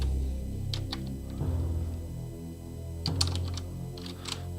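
Keyboard keys tapped while playing the Mech Chip game demo with arrow keys and space bar: a few scattered sharp clicks, some in quick clusters, close and moderately quiet over a steady low hum, with no talking.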